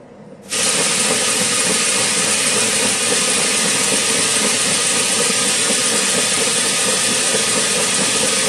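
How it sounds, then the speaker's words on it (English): A compressed air gun blasts a steady, loud hiss of air to spin up a gyroscope inside a box, the rush starting abruptly and holding constant to the end. "I suppose you could blow through the tube, but I've got a compressed air gun here"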